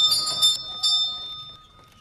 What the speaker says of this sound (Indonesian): Di sana Jerry mendengar suara lonceng yang berbunyi sangat kencang